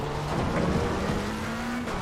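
A race car in a racing game drones past with a steady engine note that rises slightly in pitch, close and continuous over a faint tyre hiss.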